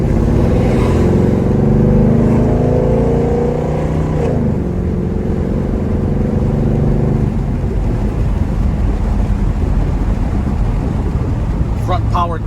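A 1972 Chevrolet Chevelle with a 700R4 overdrive automatic cruises down the road, a loud steady engine drone and rumble with wind noise, the tone shifting partway through as it settles at speed.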